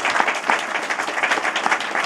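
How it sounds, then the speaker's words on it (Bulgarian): A crowd at a political rally in Kardzhali claps steadily in dense, sustained applause that fills the space, loud and continuous without a break. "Тук се ръкопляска."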